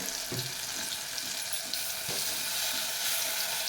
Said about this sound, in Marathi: आता आपण कट करून ठेवलेली केळी घालायची